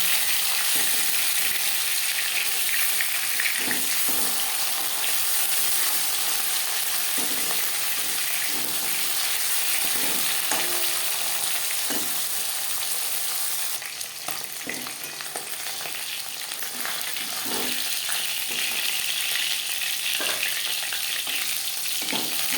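Silver carp pieces fry in a pan of oil, a steady loud sizzle with repeated soft clinks and scrapes as the fish is turned over to the other side.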